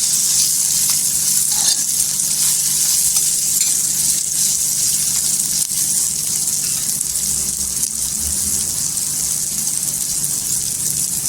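Green chillies for Maharashtrian thecha sauté in hot oil, giving a loud, steady sizzle and crackle that barely changes from start to finish.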